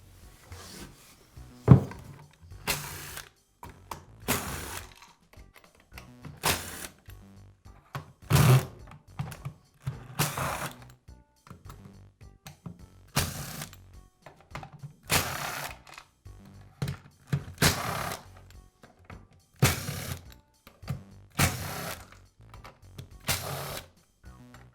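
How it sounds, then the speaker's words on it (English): Removing one half of the motor housing from a Porter Cable drywall sander: a steady series of crisp, evenly spaced clicks and light knocks, close and moderately loud, with quiet pauses between them. "I'll begin by removing one half of the motor housing."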